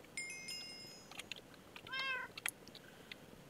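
A cat meows in the Minecraft modpack Enigmatica 2, a short rising-and-falling game meow near the middle, alone over quiet ambience with a few soft clicks and chimes around it.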